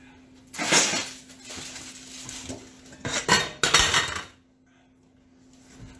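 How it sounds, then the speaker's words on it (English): A metal pan pulled out from among other cookware, clattering and clinking in a few loud bursts close by, with short pauses between and a faint steady hum underneath. "so let me get a pan"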